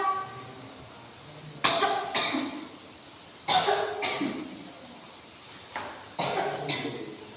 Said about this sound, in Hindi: जब देखो तब खांसती रहती है, खांसती रहती है।